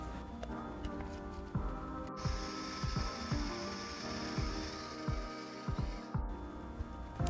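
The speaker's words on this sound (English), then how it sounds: "First thing is going to be really important that you guys grind it to a coarse grind." A hand-cranked coffee grinder working beans to a coarse grind, close and steady, with a rhythmic ratcheting crunch on each turn of the crank.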